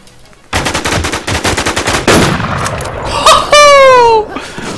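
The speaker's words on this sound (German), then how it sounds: "Was ein Quickscope!" In a video game, a rapid burst of gunfire rattles out, then a louder sharp sniper rifle quickscope shot rings out, followed by a descending whistling tone and a brief voice sound.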